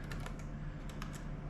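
Quiet, scattered keystrokes on a computer keyboard during Raspberry Pi setup, a few irregular clicks over a steady low hum, no voices.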